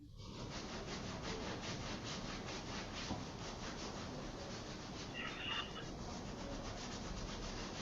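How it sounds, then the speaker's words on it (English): Hand rubbing firmly along the forearm during a hatha yoga class, a steady close-up brushing friction that runs continuously for the whole stretch with no talk. "Just rub that energy onto the forearm here."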